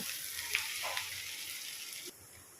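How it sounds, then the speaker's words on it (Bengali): Onions fry in ghee in a pan over high gas, a soft continuous sizzle with a couple of faint clicks, quiet and steady with no voices. "আমি পেঁয়াজটাকে লাল লাল করে ভেজে নেব।"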